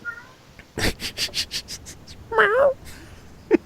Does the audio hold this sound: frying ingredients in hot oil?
no